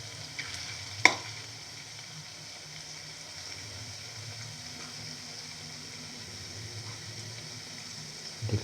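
Cottage cheese and fenugreek leaf fritters fry in hot oil, giving a steady, soft sizzle with one sharp clack near the start and a few faint bumps as they are turned.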